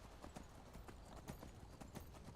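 A horse mount's hooves in a video game clip-clop in a steady, quick rhythm, a very faint run of repeated hoof hits under a soft background wash, with no talk.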